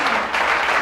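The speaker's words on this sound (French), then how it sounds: "Vous applaudissez." A church congregation claps in a brief, dense burst that fills the room evenly, with no voices rising above it.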